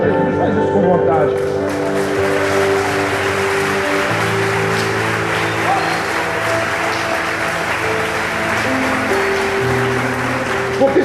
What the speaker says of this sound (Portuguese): Se você quer aplaudir Jesus, faz isso com vontade.